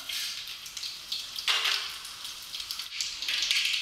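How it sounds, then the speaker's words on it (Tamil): Mustard seeds, dal and dried red chillies sizzle and crackle in hot oil while tempering for tomato rice. The frying is close and loud, with bursts of hiss and no voices. "இப்போ கடுகு இந்த பருப்பு வரமிளகாய் போட்டு தாளிச்சுக்கலாம்"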